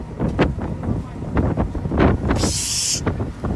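Strong wind gusts buffet a microphone outdoors near a boat in Thailand, a steady low rumble of bursts and thumps, with a brief hissing noise near the end.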